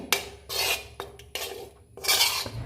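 Curry of ginger with jaggery and fenugreek powder being stirred in a pan: repeated scraping strokes of a utensil against the metal in a loose rhythm, about five sweeps, close and clear with no speech.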